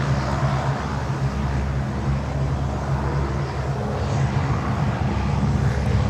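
A Saab 340 turboprop at Miami airport, heard as a continuous low engine drone with a steady broadband rumble and no clear rise or fade across the short stretch.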